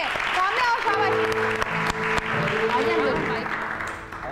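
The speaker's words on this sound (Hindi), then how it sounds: "तालियां बजाएं नवीद के लिए" Audience clapping on a Hindi-Urdu TV show stage as a performer is called up, broadband and steady throughout, with music tones and voices running underneath.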